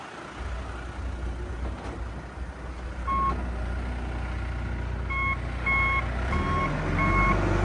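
A John Deere 310SG backhoe shifted into reverse sounds its backup alarm: sharp, evenly spaced beeps that start partway through and repeat steadily over the machine's low, constant diesel engine rumble.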